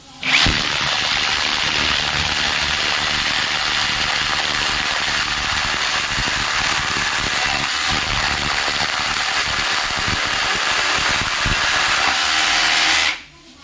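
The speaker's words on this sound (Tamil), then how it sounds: "இன்றைக்கி கருங்கல்லில் ட்ரில் பண்ணி ஆணி அடிக்க போகிறோம்." A power drill bores into solid granite rock to make a hole for a fixer and steel nail, a loud, steady grinding whine that runs unbroken for about thirteen seconds before stopping abruptly.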